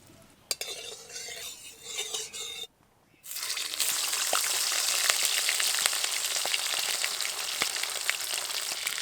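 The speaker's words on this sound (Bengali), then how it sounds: "প্রথমে আমি পমফ্রেট মাছগুলো ভেজে নেব।" Pomfret fish frying in oil in a pan: after a few quieter clinks and a short gap, a loud, steady crackling sizzle sets in and keeps going without a break.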